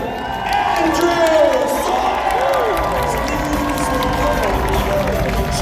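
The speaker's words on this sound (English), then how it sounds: "Ladies and gentlemen, a nice round of applause." Spectators at a knight jousting show between Canadian and American knights clap and cheer, a broad wash of applause with whoops and children's shouts, loud and steady, while a voice talks over the crowd.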